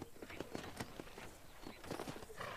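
Horse hooves in the video game Red Dead Redemption, a quick irregular clip-clop of a horse moving nearby, fairly faint and blended with other game noise.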